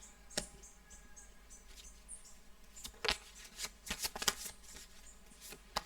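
Tarot cards being shuffled close up, quiet overall, with soft papery riffles and flicks coming in several uneven bursts.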